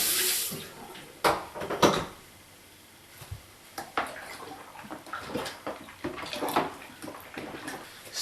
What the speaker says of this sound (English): so I'm gonna add more cold water.